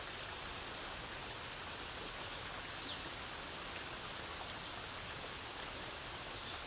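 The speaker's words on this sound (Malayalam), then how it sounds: "രാവിലെ തന്നെ ജാതി മഴ." Heavy morning rain falls steadily, a constant soft hiss of drops with no breaks, fairly faint and even throughout, with no voices.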